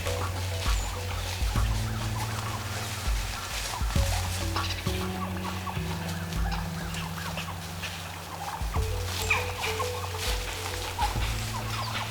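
Wild turkeys cluck and gobble in the woods, a flock calling repeatedly at close to moderate distance over a steady outdoor background.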